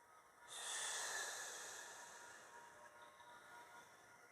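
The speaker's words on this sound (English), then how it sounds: "Exhale up." A single long, soft exhale during a breathing exercise, starting abruptly and tapering away over a few seconds, close but quiet, with no talk.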